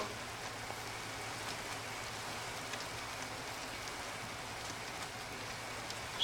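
Rain falling in the video game Minecraft makes a steady, soft, even hiss that runs unbroken throughout, quiet and with no other sounds on top.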